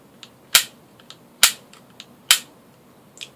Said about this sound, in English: It's got the auto reset trigger.